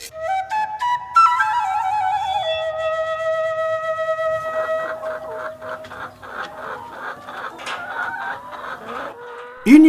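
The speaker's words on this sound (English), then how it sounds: "So let's take a look at the chickens." Chickens raised for meat and eggs on a poultry farm in Uganda, with overlapping clucks and calls rising and falling in a steady busy stream, close and fairly loud, with no talk.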